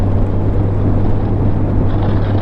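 Strong wind roars into the microphone while a rider on a 2023 Honda Wave125i motorcycle climbs a mountain road near Chiang Mai in light rain, a loud, constant rush with a low hum beneath.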